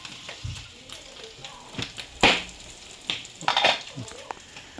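Adobo sizzling and frying in a pan, a steady hiss broken by sharp clinks and scrapes of a utensil stirring against the metal, with someone speaking quietly nearby.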